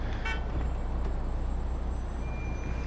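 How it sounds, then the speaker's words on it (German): A car horn toots briefly near the start over a low, steady street rumble of traffic in a realistic city driving game demo, then the road noise continues alone. "Nicht hupen hier."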